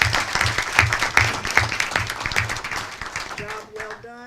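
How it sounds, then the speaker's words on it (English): Audience at a school board meeting breaks into applause, a steady spread of clapping that thins out toward the end as a few brief tones and a voice come in. "So please join me in giving them a round of applause."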